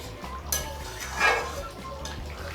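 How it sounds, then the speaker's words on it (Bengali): A spoon stirs chicken kofta curry in a pot with soft scraping and a couple of metallic clinks, one of them louder, over a low background hum. "প্রথমে একটু নেড়ে দেব।"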